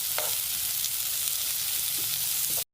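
Onion and capsicum fry in oil left from minced-meat seekh kababs on a tawa, a dense continuous sizzle with a few scraping stirs, close and steady until it cuts off abruptly.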